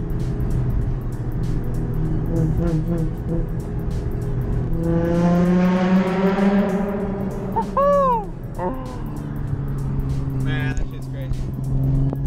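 Car engine while driving, revving up and dropping between gear shifts, with a rising surge mid-way and a skipped gear, heard from inside the cabin under someone talking.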